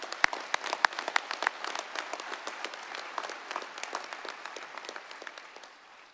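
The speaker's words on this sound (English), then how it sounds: "Let's give them a quick round of applause for that." Graduates receive a short round of applause at their graduation ceremony, a dense patter of many hands clapping at once. It fades gradually toward the end, with no voices over it.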